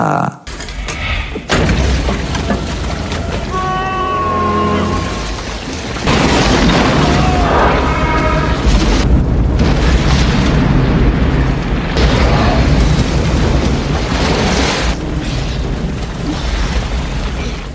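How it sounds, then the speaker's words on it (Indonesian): Bombs are thrown at soldiers in a war film scene, making heavy booms and crashing, shattering blasts that follow one another over a continuous loud battle din, with a narrating voice speaking over parts of it. "langsung melemparkan beberapa bom ke arah mereka"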